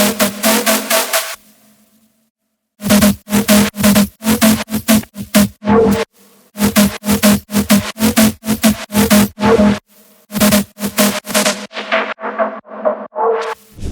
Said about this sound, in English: Drop lead altogether sounds like this.